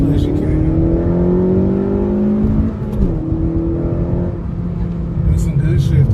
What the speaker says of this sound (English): What you want to do is rev your engine out as safely as you can.